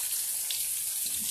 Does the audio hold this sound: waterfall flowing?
yes